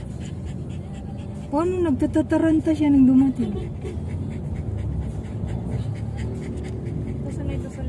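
A dog pants rapidly and excitedly up close on a family visit, with a couple of whiny whimpers near the start, while people talk over it.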